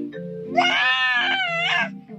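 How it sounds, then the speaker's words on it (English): A sheep bleats once in a long, loud, wavering cry close by, with a soft low voice murmuring beneath it. "What the sheep say?"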